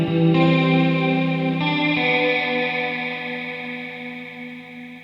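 Electric guitar played through a reverb pedal set to modulate its trails, a chord struck and re-struck, then left ringing in a long, shimmering, wavering wash that slowly fades, loud and alone.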